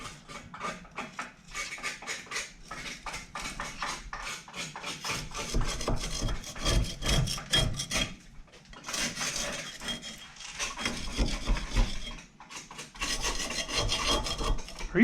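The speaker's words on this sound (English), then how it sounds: "You over there scraping the backing plate or whatever? Just scraping all the grease off." A scraper dragging grease off a rusty rear brake backing plate on a Z28 Camaro axle, rough rasping strokes repeating in uneven bursts with brief pauses, close and fairly loud.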